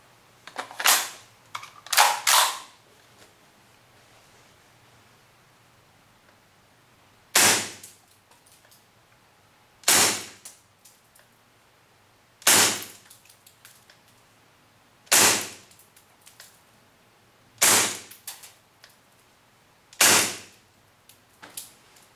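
A KWA Kriss Vector airsoft gun firing .2 BBs on green gas, with sharp single shots in a quick cluster and then one steady shot every couple of seconds, close and loud against a quiet background.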